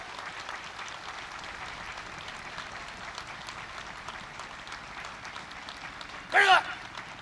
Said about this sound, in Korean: 여러분, 다시 한번 뜨거운 격려의 박수 부탁드립니다.